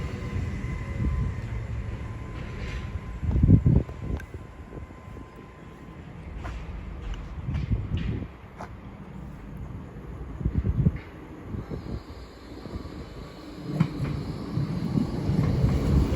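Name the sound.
Great Western Railway train 802102 at Didcot Parkway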